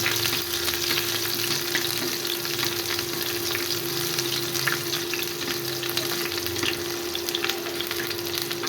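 Chopped onions fry in oil for khichuri, giving a dense, even sizzle with soft stirring scrapes throughout, near and steady with no speech.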